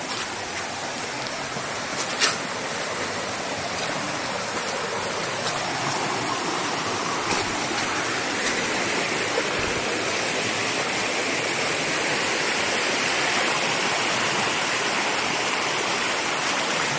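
Jungle river in the Darién Gap rushing steadily as a broad, loud wash of flowing water, unbroken for the whole stretch with no voices.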